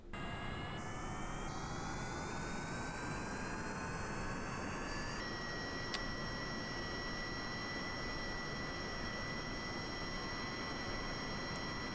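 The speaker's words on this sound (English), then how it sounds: "Let's try and see if this does a horizontal takeoff." A VTOL aircraft's jet engine in Kerbal Space Program roars steadily and loudly throughout a horizontal takeoff, with whining tones that step up in pitch early on before settling into a constant drone.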